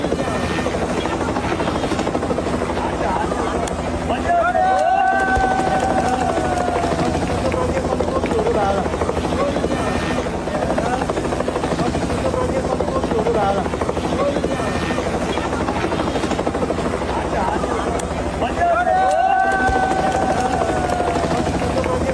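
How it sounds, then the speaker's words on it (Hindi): A rescue helicopter hovers during a flash flood in Nepal, its rotor throbbing loud and continuous throughout, with voices and crowd noise mixed underneath. "हेलीकॉप्टर्स के जरिए जिस तरह रेस्क्यू हुआ"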